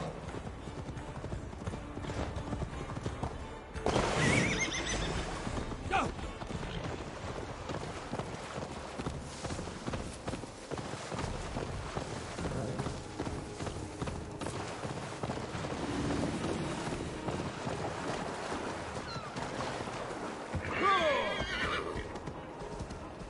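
A horse gallops with steady, rapid clip-clop hoofbeats and neighs in the video game Assassin's Creed Valhalla. The hooves run continuously for over twenty seconds, with louder whinnies rising near the start and again near the end.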